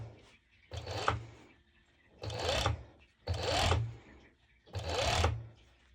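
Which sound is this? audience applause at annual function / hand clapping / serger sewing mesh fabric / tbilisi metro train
serger sewing mesh fabric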